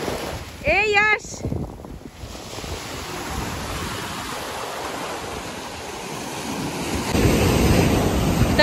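Surf rolls in steadily at Chennai beach, a broad wash of wave noise with wind buffeting the microphone, a brief burst of a voice near the start and louder surf toward the end.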